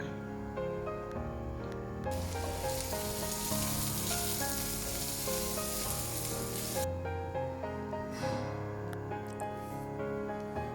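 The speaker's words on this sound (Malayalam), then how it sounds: "ഇനി ഇതേ എണ്ണയിലേക്ക് സവാള അരിഞ്ഞത് ചേർത്ത് കൊടുക്കാം" Chopped onions sizzle and crackle loudly in hot oil in a pan for a Kerala-style chicken curry, a dense steady frying hiss that swells sharply for several seconds then settles, with faint stirring underneath.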